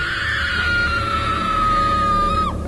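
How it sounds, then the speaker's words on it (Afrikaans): A woman screams in one loud, high, steady cry held for about two and a half seconds before it breaks off sharply, with no talking over it. "Ek het 'n snaakse geluid gehoor, 'n vrou wat geskree het."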